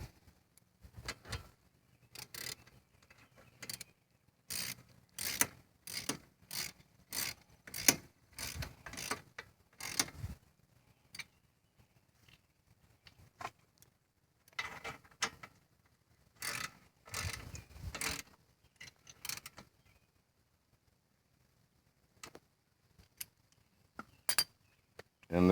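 A ratchet snugging and tightening Ford Mustang front brake caliper bolts, giving close, crisp clicking bursts with quiet gaps between strokes.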